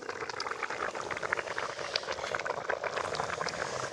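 A covered pot of tilapia fish curry bubbles and simmers steadily at close range, a constant low gurgling with soft popping and rattling, no voices.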